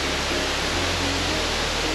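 A small waterfall at Phnom Kulen gives a steady, close, broadband rush of falling water that never lets up, with no voices over it.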